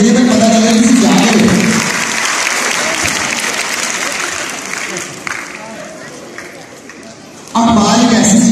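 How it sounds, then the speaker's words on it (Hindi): Audience applause in a concert hall during a performance by Pakistani singers and artists, loud crowd clapping that gradually fades, with a voice speaking at the start and again as the sound swells back at the end. "सारी टीम वास्ते जरा जोरदार तालियां हैं जी"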